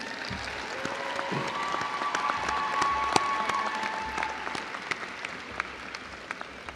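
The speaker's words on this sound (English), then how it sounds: "ask our graduates to lead a giant round of applause for the loved ones who are here watching you graduate" Graduates at a university commencement give a long round of applause, a steady dense wash of many hands clapping across a large hall, with a faint tonal hum running through the middle of it.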